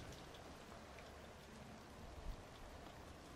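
Steady rain falls as a soft, even hiss with scattered drops pattering nearby, continuous and fairly quiet throughout.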